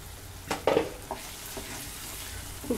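Spice paste for chicken chaap frying in a pan, a soft continuous sizzle broken by a few louder stirring scrapes and spatters, fairly quiet and close, with no talk.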